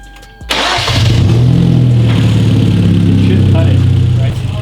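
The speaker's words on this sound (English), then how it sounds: "Start the car." A Hyundai Genesis Coupe engine cranks and catches after a brief quiet moment, then settles into a loud, steady rumbling idle with slight rises in revs, close by.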